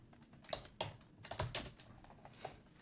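Light, rapid typing on a computer keyboard taps out an irregular run of soft, close keystrokes at low volume.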